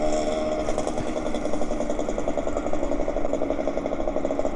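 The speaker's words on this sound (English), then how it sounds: "Sound of sputtering diesel" A sputtering, dirty-running diesel engine idles nearby in a Southeast Asian setting, a steady rough chugging rumble with a fast irregular pulse that holds at constant loudness throughout.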